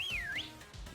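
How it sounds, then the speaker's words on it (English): A character in Pokemon Sword gives a single short whistle that glides down and back up, clear but fairly quiet over a low game background hum. "It'll stop and whistle."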